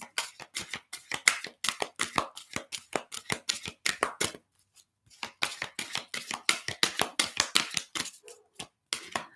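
A deck of tarot cards is shuffled by hand in quick, crisp riffling bursts, pausing briefly midway before the snapping flicks resume, close and fairly quiet.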